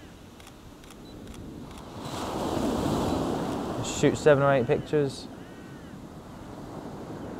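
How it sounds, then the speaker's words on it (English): Ocean waves surge and wash onto West Bay beach beneath the cliffs, swelling into a broad rush over steady wind noise, with someone speaking close by as the wave sound fades. "so that when the waves start to come in,"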